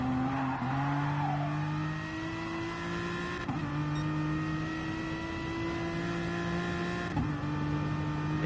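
Aston Martin DB9 Gr3 race car engine in a racing video game, a steady high-revving drone with harmonic lines held throughout and two brief dips at gear shifts, loud and continuous with no talk.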